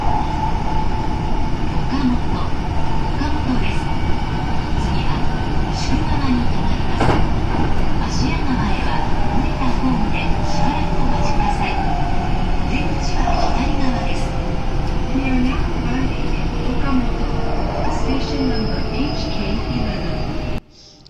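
JR special rapid train running toward Okamoto Station between Osaka and Kobe, a loud continuous rumble with rail clatter and faint rising motor whine, heard from inside the car under steady narration.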